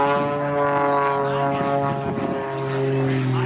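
An Extra 300 aerobatic plane flies at an air show, its propeller engine droning steadily and loudly with a strong harmonic whine throughout, while an announcer talks over it.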